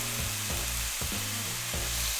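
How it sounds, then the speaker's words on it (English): Loud, steady sizzling of chicken searing in hot oil for chicken adobo, with a few soft stirring or shifting sounds recurring every half second or so. "Make sure that it's hot and it's sizzling."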